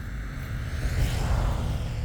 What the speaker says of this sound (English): Sorry if you hear traffic.